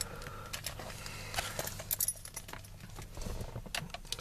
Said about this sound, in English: But I just happen to have a set of original key blanks that I saved for a rainy day.